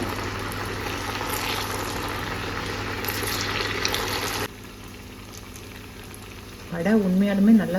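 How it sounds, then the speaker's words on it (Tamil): Jackfruit seed vadas fry in hot oil with a steady, dense sizzle that drops to a quieter bubbling partway through, and a voice comes in near the end. "இப்போ எண்ணெய் காயுது நம்ம வந்து வடையை போட்டு சுட்டு எடுத்துட வேண்டியது தான்"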